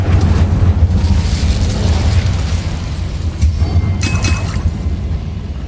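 A fire spell cast in the Hogwarts Mystery video game, heard as a loud, sustained, roaring blast of flame with a brief brighter flare near the end and no talking.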